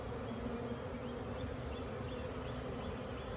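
Russian honey bees buzz inside a newly installed hive in an apiary, a steady, close, droning hum of many insects that stays unbroken and even throughout.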